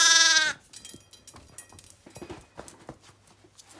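Newborn lambs bleat just after a ewe has given birth, one loud, strained bleat up close at the start, followed by quieter scattered rustling and small animal sounds.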